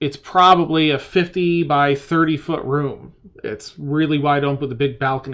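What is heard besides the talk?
None of the usual background noises is heard.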